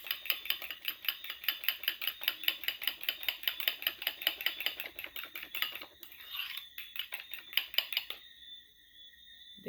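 Eggs being whisked into a sugary bread pudding batter in a bowl, a close, steady run of rapid scraping taps from a utensil against the bowl for several seconds, then slowing and fading to quiet.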